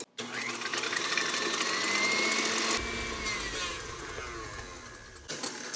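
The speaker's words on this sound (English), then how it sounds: "And now we're gonna whisk this together" An electric mixer whisks egg whites and sugar on high, a steady loud whir with a rising whine, pausing briefly near the end before starting up again.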